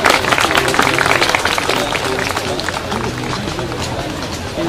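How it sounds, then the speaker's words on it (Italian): A crowd at a village fair applauds horse riders, a dense, steady patter of clapping that starts loud and eases slightly, with an announcer's voice running over it. "Bravi. Un bel applauso!"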